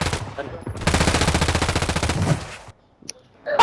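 Rapid automatic gunfire from a video game rattles in one sustained, evenly paced burst of close, loud shots, then stops, leaving a quieter tail with faint voice.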